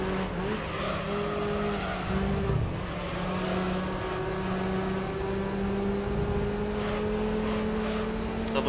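Race car engines from the video game Gran Turismo 3, front-wheel-drive cars such as a VW Lupo and a Honda Integra, droning continuously at high revs with shifting pitch and occasional tire squeal, loud and steady throughout.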